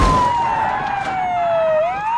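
A police siren wails steadily, its pitch gliding slowly down then rising again, loud and close with no talking.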